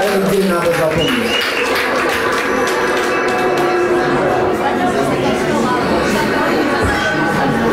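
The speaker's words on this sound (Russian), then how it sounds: "давайте похлопаем сами себе" An audience applauds at a business school graduation concert in a cafe, with steady, dense clapping and chatter filling the room throughout, voices mixed into the crowd noise.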